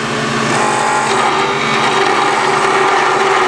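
A 17 mm parting tool cuts into a spinning wooden pen blank on a lathe, making a steady, loud, close whirring scrape with slight vibration and no pause.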